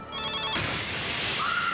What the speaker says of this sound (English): Then her phone rang.